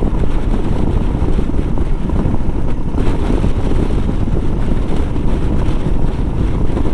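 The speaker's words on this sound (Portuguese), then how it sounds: "Muito vento, galera." Strong headwind roars across the microphone during a highway ride on a Royal Enfield Himalayan along the northern coast of Bahia, a dense, steady rushing buffet that fills the whole clip without letup.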